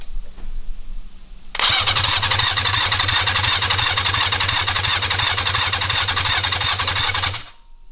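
A street bike engine fitted to a lawn mower build cranks on its starter motor for about six seconds, a loud, fast, even whirring churn that never catches, then cuts off abruptly.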